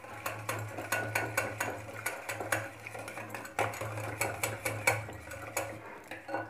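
Spoon stirring aloo raita with sweetener in a bowl, a quick series of light clinks and scrapes in an uneven rhythm, close and fairly quiet over a low steady hum.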